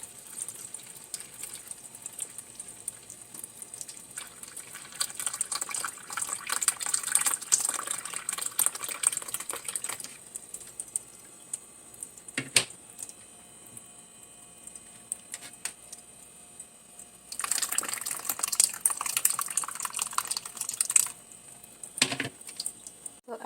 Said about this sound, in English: So I'm going to pour this slowly